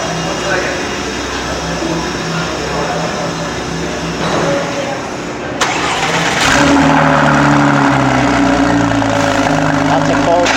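A Porsche 997 Turbo with an FVD exhaust cold starts: steady background noise, then the engine fires with a sharp catch and settles into a loud, rumbling high idle, up close.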